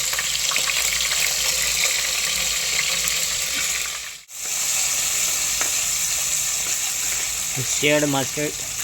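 Oil sizzles and fries steadily as eggplant bharta ingredients with garlic, ginger and coriander cook in a pan, a loud continuous crackle that drops out briefly, with a voice speaking near the end.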